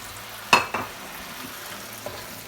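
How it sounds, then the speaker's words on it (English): Coconut milk goes into a hot pan of chicken korma, two quick splashy bursts rising over a steady background sizzle, then the frying settles low with a faint knock near the end. "In goes the coconut milk"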